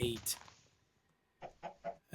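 A few short, clipped clucks from a Minecraft chicken, one burst at the start and several quick ones near the end, separated by near silence.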